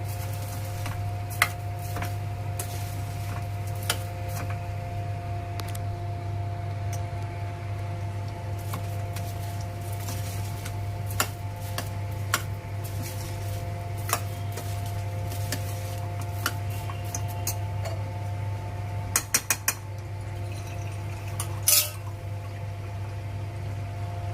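Soaked khichdi is stirred with spices in a pot, a spoon scraping and knocking at irregular intervals over a steady low hum, with faint wet movement and no talk.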